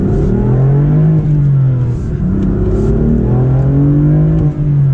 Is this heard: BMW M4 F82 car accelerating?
yes